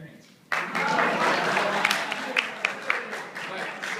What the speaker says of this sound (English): Crisscross, everyone clap your hands.